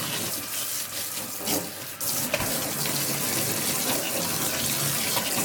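Running shower water flows steadily over a hair system as it is rinsed, a loud, close, continuous splashing rush with a brief shift in the flow partway through, and no talking.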